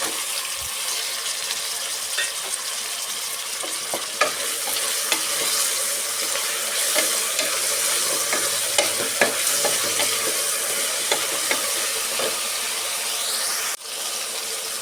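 Two medium tomatoes fry in hot oil for a temple-style vegetable pulao, giving a steady, loud sizzle throughout with scattered scraping stirs and clinks of a spoon, no voices.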